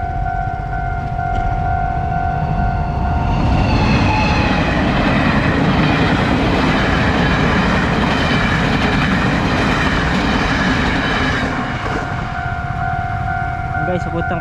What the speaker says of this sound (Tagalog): may dadaan na tren dyan